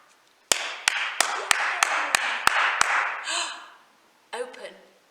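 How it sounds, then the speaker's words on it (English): Hands clap in a children's rhyme game: eight sharp, evenly spaced claps close up over a background of talk, followed by a short burst of voices. "I bet we can make them clap."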